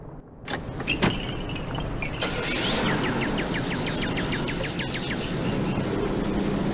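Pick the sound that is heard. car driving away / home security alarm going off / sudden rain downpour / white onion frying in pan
car driving away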